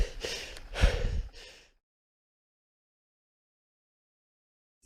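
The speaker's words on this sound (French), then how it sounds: "Je suis essoufflé." A person out of breath after mountain biking on a Bromont trail in Québec takes a few loud, close, heavy gasping breaths over about a second and a half, then silence.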